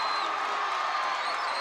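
Thousands of fans at a wrestling match in Reunion Arena roar in a steady, dense wash of cheering and whooping that stays loud and unbroken throughout.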